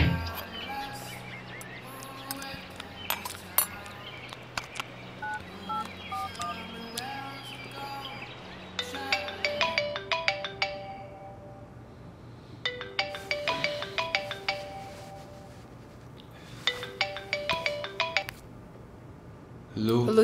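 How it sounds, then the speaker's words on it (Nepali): A mobile phone rings in bursts of bright, chirpy repeating notes, coming and going several times over a low background hum, fairly close and clear. "Jerryy, कति फोन गरे सुतिराक"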